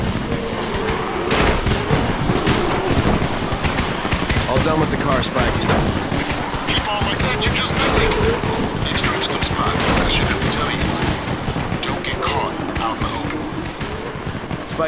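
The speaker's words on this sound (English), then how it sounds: "You still have some firecrackers, don't you? Just throw some into the crowd." Dense, continuous bursts of firecracker cracks and booms in Dying Light, layered with chaotic noise and some voices, loud throughout.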